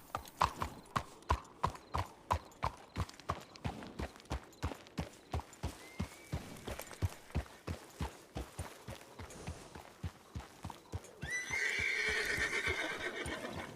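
Hooves clip-clop in a steady, even rhythm throughout, and near the end a horse lets out a loud, drawn-out neigh.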